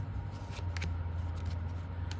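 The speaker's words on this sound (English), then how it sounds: "So we're going to give this a really good shuffle" A fairly new tarot deck being given a thorough shuffle, with crisp papery card snaps and riffles in short bursts over a steady low hum.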